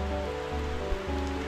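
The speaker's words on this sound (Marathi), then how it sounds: "इकडे पाऊस भरपूर पडतोय" Heavy monsoon rain pours down near Rajgad fort in Maharashtra, a dense, steady hiss of drops hitting surfaces close by.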